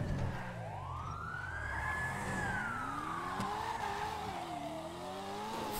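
A video game ambulance siren wails, rising and falling in long sweeps over steady engine rumble and background game noise, loud and continuous throughout.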